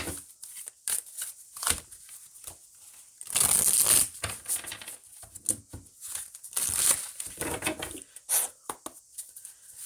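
Oracle cards being shuffled by hand at close range, a run of quick papery riffles and slaps in uneven bursts with a couple of denser stretches, no talking.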